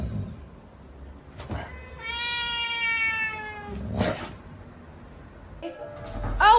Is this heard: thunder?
no